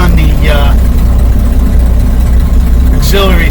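A 1948 Chevy engine idles steadily on an auxiliary fuel tank hung under the hood, a low continuous rumble that fills the whole stretch, with someone talking briefly over it near the start and again near the end.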